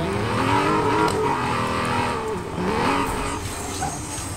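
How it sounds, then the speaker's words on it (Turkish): Car engine in the racing game Need for Speed Most Wanted, a steady loud revving drone with rising and falling pitch sweeps and light tire squeal, continuous throughout. "Motor sesine hayranım bu arabanın."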